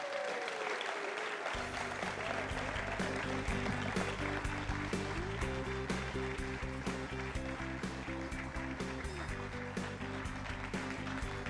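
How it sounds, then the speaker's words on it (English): An audience applauds a pizza-making space-oven innovator at the NASA Deep Space Food Challenge awards finale. Steady clapping runs beneath upbeat music that starts a second or so in and continues throughout. "Give him a round of applause"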